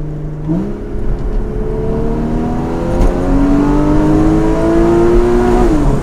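A Porsche Cayman GTS (981) engine drones loudly up close, its pitch stepping up and climbing steadily as it revs through the gears.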